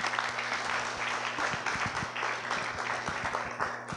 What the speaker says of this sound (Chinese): 我们首先热烈掌声欢迎他